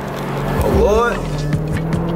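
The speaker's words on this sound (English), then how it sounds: "Supercharger done kicked in." Supercharged engine of a widebody Dodge Scat Pack revving during donuts, with a deep rumbling drone and a rising then falling whine, nearby, while a person talks over it.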